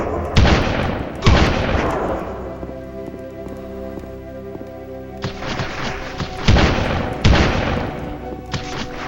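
A flak gun firing in a video game, heavy booming shots with a metallic ring, two in quick succession, then a pause with mechanical clatter, then three more, loud and close.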